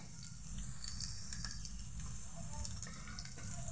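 Chopped ginger, garlic cloves and a green chili frying in oil in a pan: a steady, soft sizzling hiss that runs unbroken, close but fairly quiet, with faint stirring scrapes and no talking.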